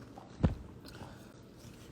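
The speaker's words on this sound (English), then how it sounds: "Sorry, I'm chewing ice." Ice cubes being chewed up close, one sharp crunching bite standing out over quiet background, with a brief voice at the end.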